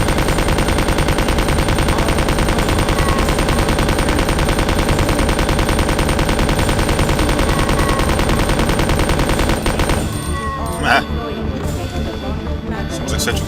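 MAC-10 automatic fire in Resident Evil 2, a loud, dense stream of rapid shots hammering continuously for about ten seconds, then stopping abruptly and giving way to quieter game sounds.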